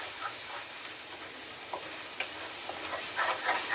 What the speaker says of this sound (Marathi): पुन्हा हे जे वाटण आहे ते सगळं मस्त असं तेलामध्ये परतून घेते